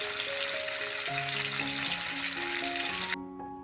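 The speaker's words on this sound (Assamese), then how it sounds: "এতিয়া এই মাছখিনি মই ফ্ৰাই কৰি লওঁ" Fish rubbed with salt and turmeric frying in a pan, a loud, dense, steady sizzle over soft background music, cutting off abruptly near the end.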